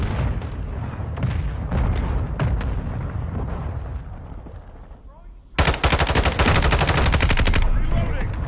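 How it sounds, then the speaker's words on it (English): Gunfire and mortar strike explosions in the Call of Duty: Modern Warfare 2 beta on PS5: dense bursts of rapid shots and booms, a lull, then a loud sustained machine-gun stream. "Hostile mortar strike incoming."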